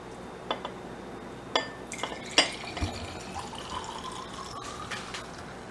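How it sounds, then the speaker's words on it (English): Wine poured into a glass at a home kitchen: faint clinks of glass and bottle, then a soft liquid trickle filling the glass, close and quiet against light room noise, with no talking. "So we're going to have a glass of wine to go with it."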